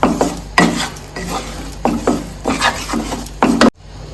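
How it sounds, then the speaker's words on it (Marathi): Gram flour roasts in ghee in a pan for besan ladoo, with repeated scraping strokes of a spatula in an uneven rhythm over a soft sizzle, close and fairly loud, before stopping abruptly. "तूप घालून भाजून घेऊयात कलर चेंज होईपर्यंत असं भाजून घ्यायचं"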